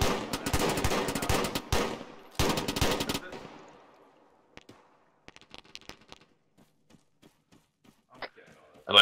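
A machine gun fires in loud bursts at close range, two rapid volleys followed by scattered lighter shots and clatter, with voices talking during the action.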